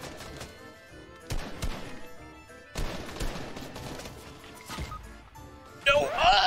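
Gunfire in the video game Fortnite, a series of sharp distant shots and bursts scattered through the clip, mixed with voices talking over them and a louder crackling burst at the end.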